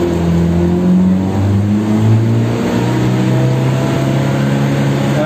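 A Mitsubishi L300 pickup carrying a heavy load climbs a steep hill in first gear with the engine revving high. The drone is loud and steady and rises and falls slightly throughout, with no talking.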